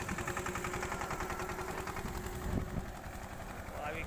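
A Massey 5118 tractor ploughs a field, its engine holding a steady, even drone at moderate distance with a constant pulsing texture throughout.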